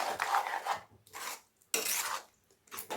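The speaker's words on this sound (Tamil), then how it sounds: "அடி பிடிக்காமல் நல்லா கலந்துகிட்டே இருக்கணும்" A spoon scrapes around a pan while stirring moong dal and white ash gourd kootu, producing four soft, rasping strokes with short pauses between them, close up and without talking.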